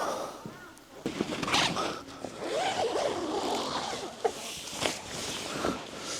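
A zipper is pulled open on a family camping tunnel tent, making scratchy, rasping runs with rustling fabric, close by, while someone talks over it.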